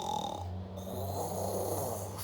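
A voice imitates a dog snoring during a children's story, with a steady, rasping snore drawn out over about two seconds, close and fairly loud, with no other talk.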